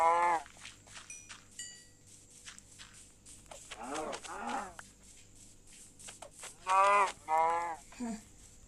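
Cows moo in the Minecraft video game on a sky block island, a few drawn-out lowing calls in the middle and toward the end, with occasional speech-like sounds around them.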